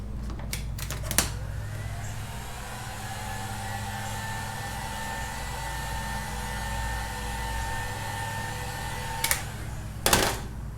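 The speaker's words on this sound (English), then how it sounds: "I was just giving the vinyl a little heat to get rid of these wrinkles" A heat gun blows hot air over vinyl wrap to smooth out wrinkles, making a steady, even whooshing drone that holds for about ten seconds, with a few sharp clicks near the start and end.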